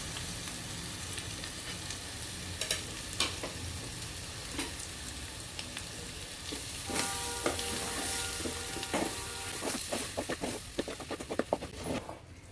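Chopped potatoes sizzle steadily in a pan, with a constant frying hiss and scattered clicks and scrapes of stirring that grow busier toward the end, close by with no talking.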